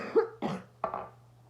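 Three separate coughs from a woman, close and fairly loud, spaced evenly apart with short gaps and a faint steady hum underneath.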